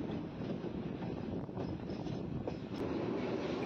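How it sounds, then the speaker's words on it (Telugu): At night a train passes on a parallel track, a low, steady rumble and rattle of rail cars, with wind buffeting the microphone and no voices. "అటువైపు వెళ్ళిపోతుంది ఆ ట్రైన్"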